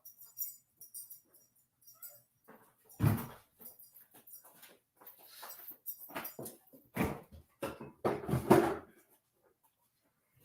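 Dogs whimper and fuss close by, with soft whines and scuffling bursts that come and go in uneven clusters, louder toward the end, and no talking over them.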